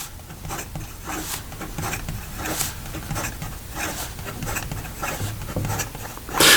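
A Retro 51 fountain pen with a stub nib scratches quickly across paper in close, quiet strokes, with short bursts of rhythmic scribbling and a louder rub at the end.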